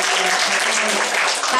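Close, loud applause from a group at a school Islamic evening gathering, continuous and even, with faint voices underneath.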